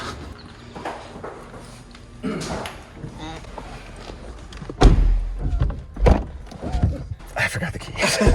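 The doors of someone's Mercedes SLR are opened, with solid thunks and mechanical clunks rising out of a steady background, while people talk nearby.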